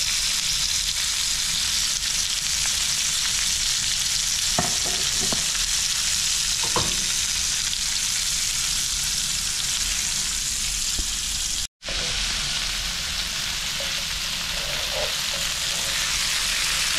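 Fish frying in oil, a dense, loud, continuous crackling sizzle with a few scattered clinks and a momentary cut-out partway through.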